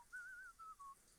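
Sims 4 character whistling in the shower, a short wavering melody of three clear, sustained phrases alone with no talk, moderately faint.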